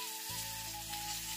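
Fish frying in oil, a steady close sizzle that sets in abruptly and holds under a faint background hum.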